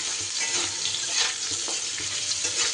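Cut pumpkin fries in hot oil spiced with dried chilli, a close, steady sizzle with soft stirring scrapes throughout.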